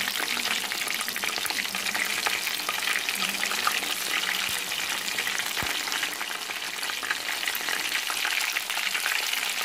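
Chilli chicken pieces fry in hot oil with a dense, continuous crackling sizzle, close and loud, holding steady for the whole stretch with faint stirring knocks.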